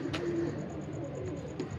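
Ferozpuri and teddy pigeons at a fancier's loft cooing softly in a low, steady murmur, with faint rustling and background noise throughout and no talk.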